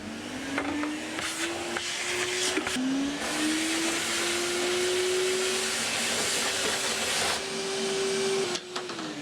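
Workshop vacuum cleaner with an attachment fitted, running through a clean-up with a steady whooshing roar whose pitch shifts as the nozzle moves and briefly catches, continuous and close with no talking.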